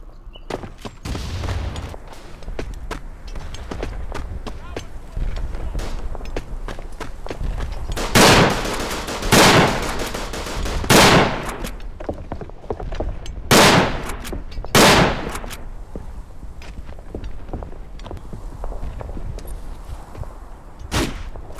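Gunfire in the World War I shooter Verdun: a string of sharp, loud rifle cracks spaced irregularly over a background of distant battlefield shots and shuffling movement, with no talk.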